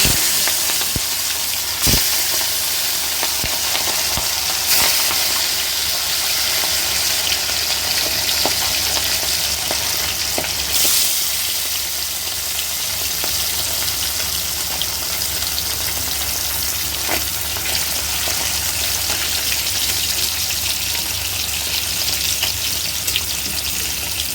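Rui fish fry in hot oil in a heated kadai, giving a steady, loud, close sizzle throughout with a few sharp crackles and pops and no talking.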